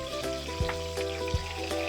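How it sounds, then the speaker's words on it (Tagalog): Tilapia fish frying in oil, with a soft crackling sizzle and occasional sharper pops, heard close alongside a steady tonal hum from the surroundings. "Ako sa pritoon ang tilapia."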